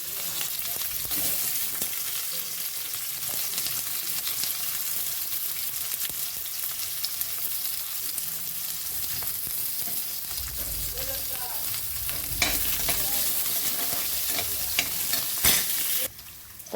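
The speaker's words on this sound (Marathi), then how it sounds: "कांदा भाजून घेऊ" Onion roasts in a pan with a steady, close crackling sizzle and occasional stirring scrapes that run throughout, and a few sharper knocks come near the end.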